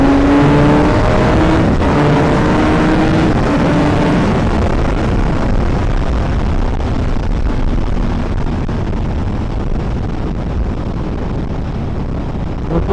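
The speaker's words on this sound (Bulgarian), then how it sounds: "Време е да даваме малко газ." A motorcycle accelerates along a country road through rapeseed fields, its engine tone climbing loudly at first and then sinking into heavy wind rush as speed builds.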